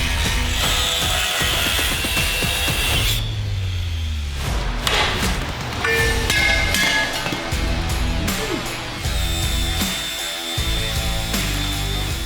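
Power tools grind and saw through the steel frame of a Jeep Gladiator being cut for a Motobilt Tomahawk front bumper, loud and close, with bursts of cutting broken by short pauses and clanking thuds.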